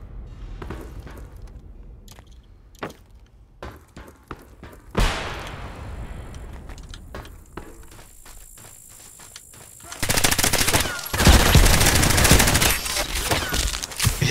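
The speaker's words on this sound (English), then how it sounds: "What the hell is this gun? AK recoil is non-existent." Bursts of AK rifle gunfire in the shooter game Hired Ops, sharp repeated shots early on, then a dense, loud sustained volley filling the second half.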